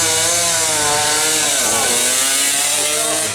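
Three-cylinder two-stroke 1975 motorcycle engine at a seaside speed trial, a loud raspy continuous buzz whose pitch dips and then climbs again as it revs past close by.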